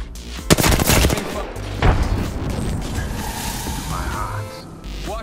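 Gunfire in the video game Apex Legends: bursts of rapid automatic shots crackle loudly up front, followed by a heavy single blast, then a busier mix of distant shooting and game noise.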